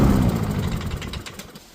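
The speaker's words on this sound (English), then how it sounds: "your lawnmower starts and stops like this," Toro lawn mower with a Honda GCV160 engine, nearby and loud, sputtering as it starts and then fading as the engine dies over a couple of seconds, with no talk.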